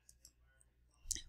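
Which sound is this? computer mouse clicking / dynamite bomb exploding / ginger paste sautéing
computer mouse clicking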